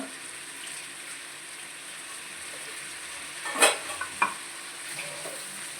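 Chicken fried rice sizzling in a pan as vinegar and soy sauce go in, a steady low frying hiss with a couple of brief clinks and splashes midway, no talking heard.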